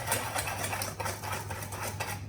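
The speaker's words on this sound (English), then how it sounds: "I'm just going to use the whisk and blend it all up" A whisk beats rapidly against a bowl, mixing a spice blend for a spiced cake, in quick, even, close taps that run steadily without talk.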